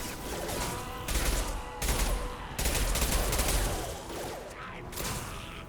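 Bursts of gunfire with incendiary ammo ring out in a Mass Effect firefight, several loud rapid-fire volleys separated by short pauses, with crackling blasts between them.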